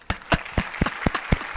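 A few people clap in a loose, uneven rhythm, roughly eight distinct claps close to the mic with a little room sound between them and no talking.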